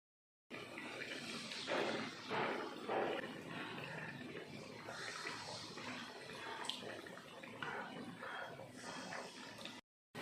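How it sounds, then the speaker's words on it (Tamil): Soaked sweet dough frying in hot oil in a home kitchen, a dense continuous bubbling sizzle that stays fairly steady and close for several seconds. "ஆயிலில் போட்டு பொரிச்சு எடுத்துடலாம்."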